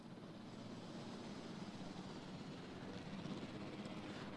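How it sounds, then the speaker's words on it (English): Helicopter arriving in the Jurassic World Evolution video game, a steady whirring rotor-and-engine drone that holds at an even level throughout, with no talk over it. "Here's the chopper."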